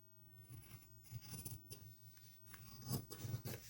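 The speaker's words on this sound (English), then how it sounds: "So I'm going to cut it. I'm going to trim it." Scissors snip and trim paper in a series of close, crisp cuts with soft rubbing and scraping between them, quiet and without talk.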